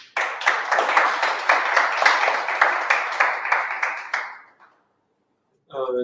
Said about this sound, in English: Give a round of applause for them, please.